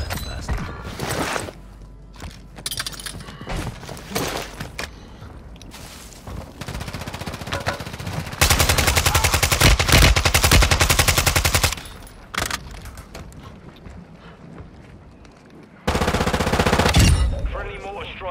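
Call of Duty gunfire: loud, rapid automatic bursts in long stretches, with short pauses and scattered single shots.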